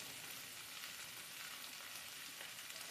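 Food sautéing in a small kadai for a breakfast thokku, giving a steady, close, even sizzle and frying hiss that carries on without break and with no talk.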